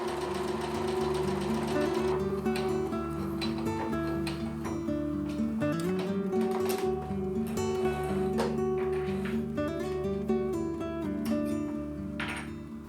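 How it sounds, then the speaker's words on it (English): A modern sewing machine stitches buttonholes on a handmade cottagecore blouse, with a steady, close mechanical whir and rapid rhythmic needle clatter running throughout, loud and unbroken, with no talk. "My modern machine took the task of sewing perfectly straight buttonholes upon itself."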